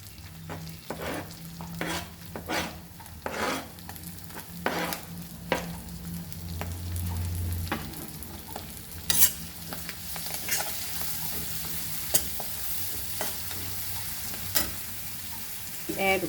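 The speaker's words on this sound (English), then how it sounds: "Then we'll add our finely chopped onion." Finely chopped onion fries over a medium flame with a continuous soft sizzle, broken by repeated clinks and scrapes of a spoon stirring the pan at close range.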